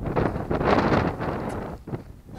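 Wind blowing outdoors, gusting and buffeting hard against the microphone in uneven surges that ease off toward the end.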